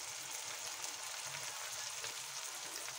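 Spices sizzle in a hot tomato and onion masala for potato curry, a steady close frying hiss with soft crackles throughout, no voices.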